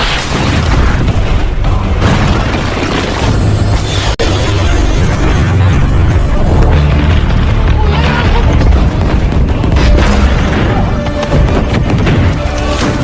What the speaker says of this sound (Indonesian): si Vincent pun menunjukkan kualitas tembakan robotnya